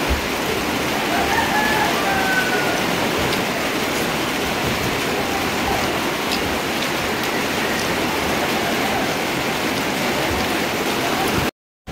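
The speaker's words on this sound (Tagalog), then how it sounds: "Ulan na dito guys." Steady, loud rain pours throughout, with a rooster crowing faintly in the distance a couple of times early on.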